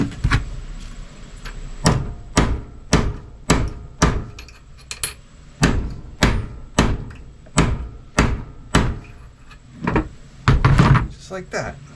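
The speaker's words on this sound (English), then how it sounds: "Hammer it flat." A hammer flattens a metal car brake line with about fifteen sharp, evenly spaced blows, loud and close, while a person talks between the strikes.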